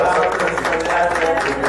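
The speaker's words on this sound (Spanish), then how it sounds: "Fuerte aplauso" Loud, sustained applause from an audience at a Tropicana show, a dense wash of clapping that keeps going without a break over a low musical hum.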